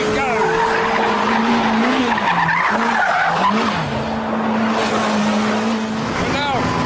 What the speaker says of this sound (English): until you light up that one wheel with throttle and then it really goes